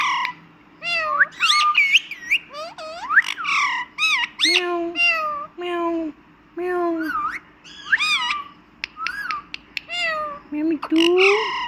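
A pet parrot named Mithu imitates a cat's meow over and over, a run of bright, whiny meow-like calls mixed with short squawks, close and loud, with brief pauses between bursts.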